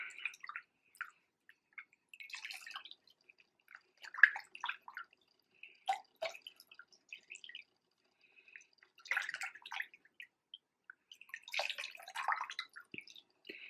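Makeup sponge squeezed out in a bowl of water, giving scattered soft squishes, drips and wet gurgles in short bursts with quiet pauses between, close and fairly faint.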